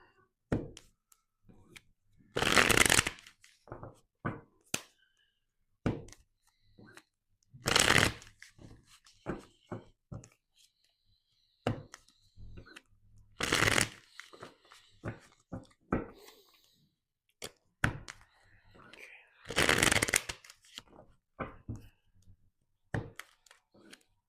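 Tarot cards being shuffled close up in several bursts of crisp riffling, separated by quieter handling clicks and taps, with soft occasional speech in between.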